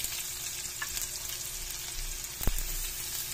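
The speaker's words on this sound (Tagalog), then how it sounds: "Iligisa ko na dito ang aking sibuyas at saka bawang." Onion and garlic sautéing in a pan for a Filipino togue lumpia filling, a soft continuous sizzle with occasional stirring clinks and one sharper knock, close and without speech.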